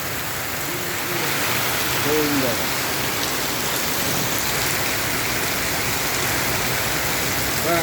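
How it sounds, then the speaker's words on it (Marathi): Steady, dense rainfall patters continuously on surfaces in Dharashiv, a loud even hiss with a few faint tonal calls in the background. "पाऊस चालू आहे"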